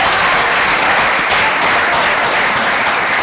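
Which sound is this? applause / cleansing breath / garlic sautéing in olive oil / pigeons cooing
applause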